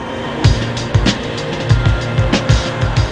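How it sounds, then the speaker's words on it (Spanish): New York street traffic: a steady roar of passing cars with repeated rumbling swells and clattering, dense and close, with no clear voices standing out from the crowd. "Una mezcla de autos de velocidad, sonidos atronadores y una multitud que camina rápido."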